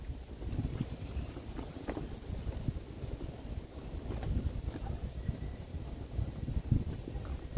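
A canoe ride on water in botanical gardens in Ghana, with a steady low rumble of wind and water and faint knocks and splashes, no talking.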